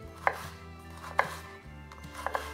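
An onion is chopped with a knife on a board: three crisp, separate cuts spaced about a second apart, close and clear, with a low steady hum beneath and no talking.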